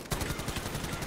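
A light machine gun fires a rapid burst in the video game Call of Duty Warzone, about a dozen quick evenly spaced shots in roughly a second.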